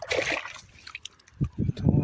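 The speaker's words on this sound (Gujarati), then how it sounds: "જો પાણી ચાલુ છે" Irrigation water runs into a channel in a dry farm field, a brief close splashing and gurgling flow heard under a voice.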